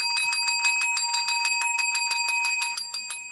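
Rapid, steady ringing of small bells, a bright metallic jingle repeating evenly for a few seconds, close and fairly loud with no voices.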